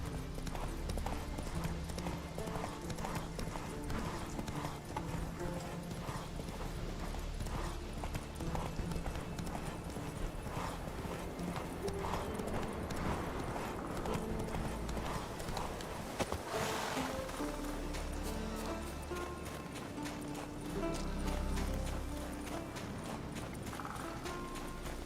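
Rapid, continuous hoofbeats of the horse Roach galloping in The Witcher 3, a dense rhythmic thudding clip-clop over a busy game soundscape, with the occasional snort and no pause for the full stretch.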